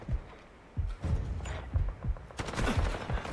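Bursts of gunfire from the Delta Force video game crack out in irregular volleys, sharp and close, with several rapid shots clustered toward the end.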